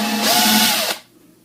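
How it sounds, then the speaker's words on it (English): A power drill boring through a small chunk of wood, a loud close whine with a rising motor pitch for under a second before cutting off abruptly. "So we can drill through it."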